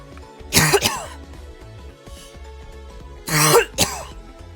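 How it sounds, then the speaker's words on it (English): Someone coughs close to the microphone in two loud, rough bursts about three seconds apart, with a faint background tone in between. "That cough I was talking about earlier."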